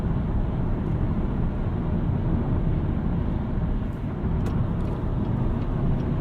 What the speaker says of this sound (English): You can hear a little bit of engine in the background